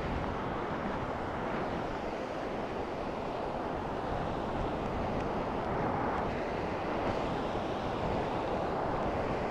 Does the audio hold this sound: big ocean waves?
yes